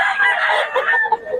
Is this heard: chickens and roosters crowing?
yes